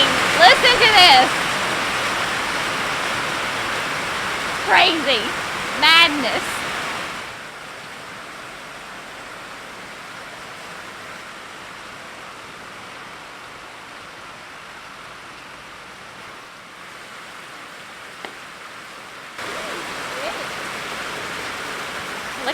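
Steady broadband hiss of rain falling, louder at first with people talking briefly over it, then a softer continuous patter through the rest.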